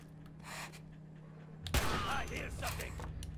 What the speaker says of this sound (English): you heard that dude's head getting blown off